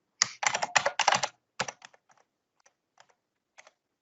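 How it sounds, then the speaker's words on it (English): A computer keyboard clacks in a quick burst of close, crisp typing, then slows to a few scattered keystrokes with gaps of silence between them; no voices. "Bring it up by just typing in the route"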